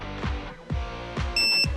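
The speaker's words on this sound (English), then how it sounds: "Hearing that beep, know it's gonna connect" A wireless phone charger coil gives a short, clear electronic beep as a compatible phone is set on top to charge, heard once near the end over a background of low thumping sounds.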